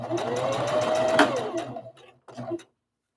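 A sewing machine stitches a rag doll, running in a loud steady whir for under two seconds, pausing, then giving a short second burst before stopping.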